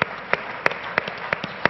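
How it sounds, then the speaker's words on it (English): Sparse, evenly spaced handclaps ring out at a Startup Battlefield pitch event, crisp and fairly close, repeating in a steady rhythm of about three claps per second. "So round of applause for Namesake."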